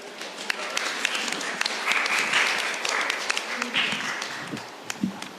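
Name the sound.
applause welcoming Santa Claus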